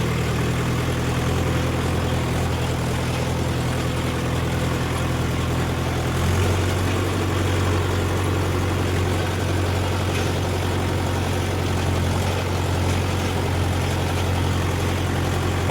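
A Mahindra Yuvo 575 tractor's engine idles steadily and continuously nearby, a low, even diesel rumble that shifts slightly in pitch partway through, with no talking.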